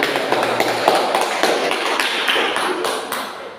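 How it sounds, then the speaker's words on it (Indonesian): Classroom applause for a teacher during a Catholic religious education lesson for seventh graders, a dense crackle of many hands clapping steadily and fairly loud throughout, with no pause. "mari kita berikan aplaus dulu kepada Ibu"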